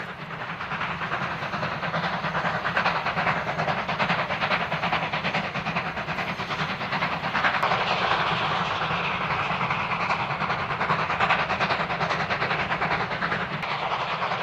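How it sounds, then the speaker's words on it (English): Two coal-fired steam locomotives working hard through countryside, a loud continuous roar of exhaust and hiss with rolling wagon clatter throughout, no voices. "the angry beat of the two locomotives"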